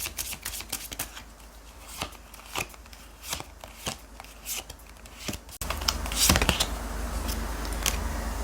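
Tarot oracle cards being shuffled, a steady run of crisp, close riffling snaps and flicks that grow denser and louder partway through, with no talking.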